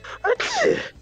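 A single sneeze: a short breathy intake followed by a sharp, explosive burst, close and moderately loud, lasting about a second.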